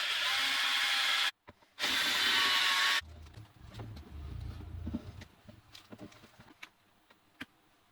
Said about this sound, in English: Just making sure there's nothing behind it that I'm gonna drill through.